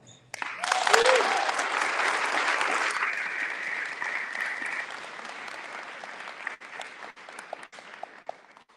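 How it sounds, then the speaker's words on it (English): A crowd at a 2024 State of the District address breaks into loud, dense applause with a brief cheer near the start, then thins after a few seconds into scattered claps that die away. "if we could give them the incredibly warm round of applause that they deserve"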